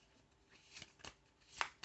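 A deck of cards is riffled and shuffled in a few quick, crisp bursts, close up and fairly quiet, with no talking.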